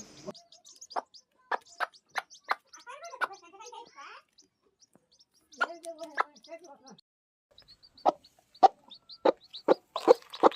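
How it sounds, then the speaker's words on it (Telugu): Short clucking and peeping calls come in bursts with pauses between them, close by. The calls sound like a hen and her chicks. "చూడండి ఫ్రెండ్స్, కోడి పిల్లలు అయితే ఏ విధంగా ఉన్నాయో."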